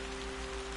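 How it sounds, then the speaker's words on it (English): Steady rain falls in the video game Yonder: The Cloud Catcher Chronicles, a soft, even hiss of drops that holds constant and alone throughout. "Oh no, it's raining."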